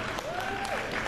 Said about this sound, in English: I wonder what you were applauding.